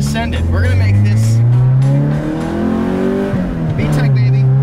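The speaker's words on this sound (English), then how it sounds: "there's drift cars right there" Drift cars running close by, a steady loud engine drone with shifting pitch and rising revs, with people talking over it throughout.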